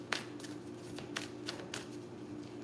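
A deck of cards is shuffled in quick, soft riffling flutters over a steady low background hum, with no talking.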